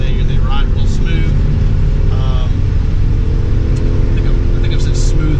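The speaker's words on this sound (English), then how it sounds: "the truck is accelerating nice and smooth" A 1999 Ford F-250 Super Duty pickup on Nitto tires accelerates smoothly, giving a steady low engine and road drone with faint tire hum throughout, continuous and fairly close.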